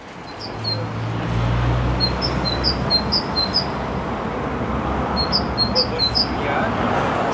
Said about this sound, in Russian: Андрей, твоя птица поет здесь?